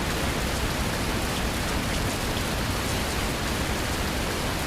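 Steady rain falling in the Fernbus Simulator bus-driving game, a continuous even hiss of drops on surfaces that holds at the same level throughout, with no voices over it.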